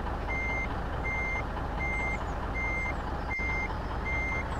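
A MAN F2000 truck reverses slowly in Euro Truck Simulator 2, its reversing alarm beeping in a steady, evenly spaced rhythm over a constant low engine rumble.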